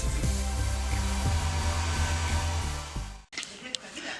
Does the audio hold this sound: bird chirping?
no